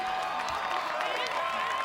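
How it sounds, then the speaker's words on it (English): Cheering from a family in the stands at an American Ninja Warrior qualifying course in Dallas, blended into a steady wash of crowd noise and applause lasting the whole moment, with no single voice standing out. "Nika's mother and sister cheering her on from the stands."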